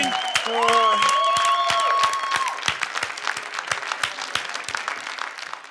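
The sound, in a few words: audience applause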